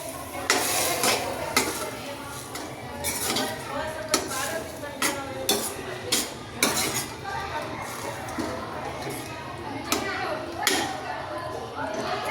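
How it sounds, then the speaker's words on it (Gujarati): Val beans are stirred into gravy in a cooking pot for a Gujarati val shaak. A spoon clinks and scrapes against the metal in irregular close knocks over a soft, wet mixing sound. "હવે તેમાં આપણે વાલ એડ કરી દઈશું। હવે મિક્સ કરી દઈશું।"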